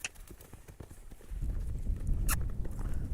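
A horse moves off after standing still, its hooves clip-clopping in a quick irregular walk on the ground, close by and fairly loud, with a low rumbling background taking over partway through.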